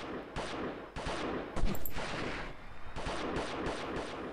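Bursts of gunfire in the video game Delta Force, loud rapid volleys of shots in several clusters with brief gaps between them, no talking.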